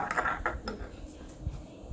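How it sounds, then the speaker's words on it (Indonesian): A spoon stirs coffee brewed by a Nescafe Dolce Gusto machine, giving a few quick, light clinks against the cup at close range, then fading into quiet. "kita aduk dulu, lalu kita rasain"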